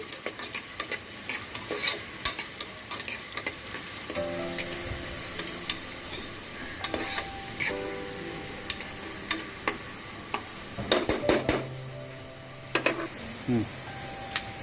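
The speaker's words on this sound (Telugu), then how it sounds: "ఇది కొంచెం ఫ్రై చేసుకోవాలి ఫ్రెండ్స్, ఎక్కువ అవసరం లేదు" Lengthwise-cut vegetables fry lightly in a pan with a soft hiss while a utensil stirs and clinks against the metal in irregular bursts, close by, with brief tonal rings in between.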